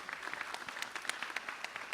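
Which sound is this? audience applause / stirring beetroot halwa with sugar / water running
audience applause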